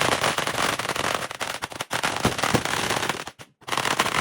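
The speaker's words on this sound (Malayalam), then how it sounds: "ഞങ്ങൾ കോമ്പല പടക്കം പൊട്ടിച്ച്" A long string of firecrackers bursts in rapid, dense crackling for Vishu celebrations at home, loud and close, with a brief gap near the end before the popping resumes.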